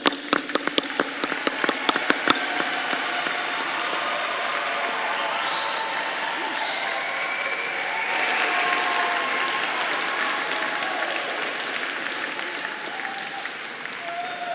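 Sustained applause from a large graduation audience for College of Business graduates at a spring 2021 diploma ceremony, a steady wash of many hands clapping with a few louder nearby claps at the start.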